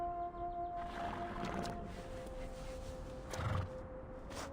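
A horse in a video game gives a loud whinny, with clip-clop hooves and a steady tonal drone in the background; no speech.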